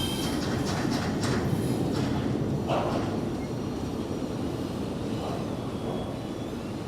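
Train passing by at night in Miami, a steady loud rolling rumble with rattling wagon clatter that eases slightly toward the end, heard from nearby street level.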